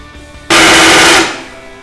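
A loud, rapid wooden rattling burst from a balakatak wooden clapper noisemaker lasts under a second, sharp and close, then stops abruptly.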